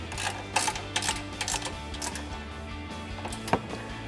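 A 17mm ratcheting wrench tightens the strut tower bolts on a 2014-2020 Ford F-150 during a suspension lift install, rapid light clicking ratchet strokes in short uneven bursts, close and fairly quiet, with no talking.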